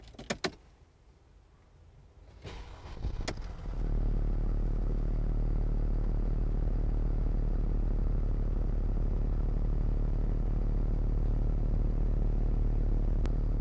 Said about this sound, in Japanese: ではエンジンを始動していきます。